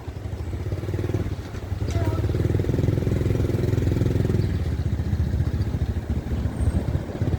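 A motorcycle runs steadily during a ride around Intramuros, Manila, a close, continuous mid-pitched engine drone with slight swells in throttle. Brief talk and street noise blend in beneath it.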